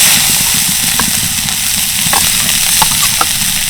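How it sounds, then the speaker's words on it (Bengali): Grated carrots frying in ghee in a wok, a steady close sizzle with occasional soft scrapes of stirring throughout. "এবার আমি এই গ্রেট করা গাজরগুলোকে ঘি দিয়ে ভেজে নেবো"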